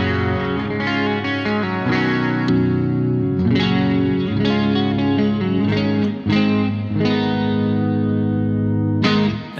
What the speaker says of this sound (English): there's still a lot of guitar coming through and the reverb isn't quite taking over as much as you would expect it to